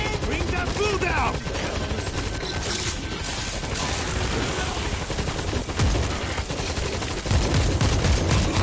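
Rapid automatic turret gunfire in the video game World War Z, Tokyo Setting Sun mission on Extreme difficulty: dense, continuous bursts of shots with loud impacts throughout, with voices occasionally heard.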